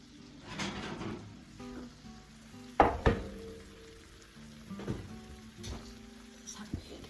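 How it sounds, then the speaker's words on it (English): Pineapple slices sizzle in a hot pan beside Mexican-style chicken legs, a steady low frying hiss with a few sharp clatters and knocks of utensils or a lid near the middle and end. "And that they are, sizzling away."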